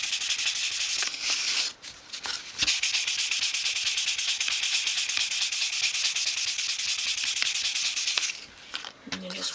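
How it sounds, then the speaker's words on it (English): Wood being hand-sanded with fine 500 grit sandpaper for a 1/12 scale dollhouse work table, a steady close scratchy rubbing that continues for several seconds with brief pauses. "use the 500 grit sandpaper and just really sand it"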